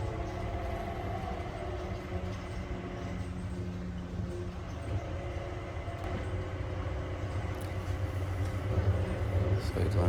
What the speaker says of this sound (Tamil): பாருங்கள், ஃபஸ்ட்டு சீட்டு டிரைவர்லெஸ் ட்ரெயின்.